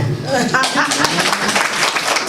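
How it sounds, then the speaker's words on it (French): An audience at a birthday celebration breaks into applause, dense rapid clapping rising quickly and filling the room, with voices audible over it. "On applaudit très fort."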